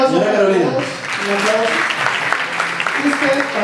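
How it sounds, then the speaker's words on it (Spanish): Audience at a marketing workshop breaks into applause, a dense wash of clapping that runs throughout, with a voice speaking over it loudly at the start and end. "Muy bien, un aplauso. Para todos."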